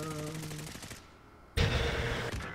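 Light machine gun fire in a shooter video game, a loud, sustained burst that cuts in abruptly after a quieter stretch with tonal game sounds.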